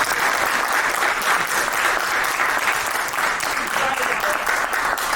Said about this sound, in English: If we give a round of applause.